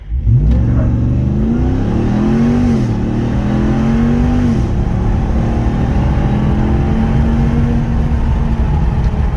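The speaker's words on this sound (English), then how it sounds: "So I'm about to do an acceleration test from 0, and here we go." A Ram TRX truck on lift springs launches from a standstill, its engine roaring loud and close, climbing in pitch through one gear change, then holding a strong, steady rising drone with no talking.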